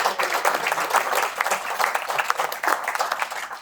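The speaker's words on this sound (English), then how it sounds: "you guys deserve a big round of applause" Audience applause at a real estate agents' roadshow evening in Cape Town, honoring the agent team: steady, dense clapping from a crowd, moderately loud and continuous with no talking over it.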